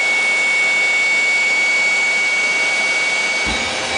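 A Saturn 1300 gas turbine engine runs after ignition during a load test, a loud steady broadband roar with a thin high whine held throughout, and a low thump near the end.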